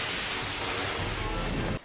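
Glass shatters in the Batman animated series, a loud, dense crash of breaking panes that fills the whole moment and then cuts off abruptly.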